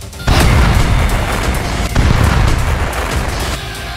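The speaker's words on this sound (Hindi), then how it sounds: "चौथा हमला, इजराइल का चौथा टारगेट तबाह" An Israeli strike hits a Hezbollah military site in Lebanon, a loud, deep explosion that booms in abruptly and keeps rumbling. A second heavy thump comes about two seconds later, then the roar slowly fades.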